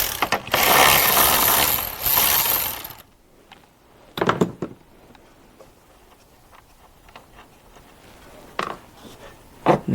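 A ratchet wrench undoing a nut that holds the power steering fluid reservoir to the air filter box on a Dodge Grand Caravan, starting with a loud burst of fast clicking and then a few short, fainter clicks and clanks.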